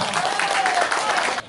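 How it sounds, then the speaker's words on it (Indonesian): Audience applause at a community meeting with a city council chairman in a Medan neighbourhood, a dense steady clatter of clapping for about a second and a half that cuts off abruptly at the end. "Tepuk tangan buat kita semua."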